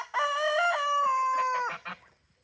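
A rooster crows once, long, loud and close, in a homestead chicken yard, with a short clucking note at the end and no other sound behind it.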